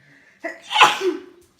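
A single loud, close sneeze with a sharp intake of breath before it, alone without any talking.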